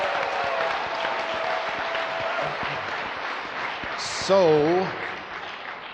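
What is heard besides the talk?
applause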